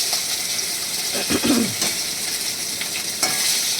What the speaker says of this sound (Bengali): এবার আমার এই মাছগুলো ভাজা হয়ে গেছে